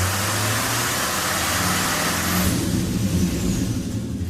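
A 2013 GMC pickup truck engine roars steadily, then its pitch climbs as it revs up to 2,500 RPM, loud and close, with no voices.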